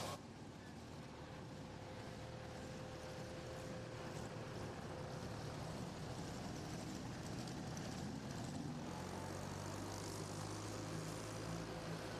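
A pulling tractor at the Lions Super Pull of the South in Chapel Hill, Tennessee roars continuously at full throttle, a dense, loud, steady engine drone heard from a distance with no pauses.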